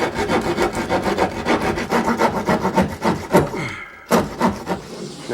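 A drill bores upward through a wooden wall toward the roof during a residential retrofit, giving a steady grinding, rasping drone with rhythmic pulses that cut off abruptly near the end, close and loud with no talk.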